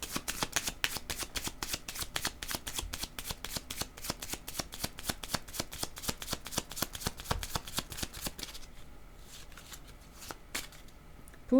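A deck of cards is riffle-shuffled in a fast, steady stream of crisp flutters for about eight seconds, followed by softer handling and a few scattered taps, close and moderately quiet with no talking.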